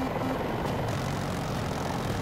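A helicopter flies in a Battlefield-style video game match, a MI-240 Super Hind-type chopper giving a constant thudding rotor drone with dense engine roar, close and loud, with no talk.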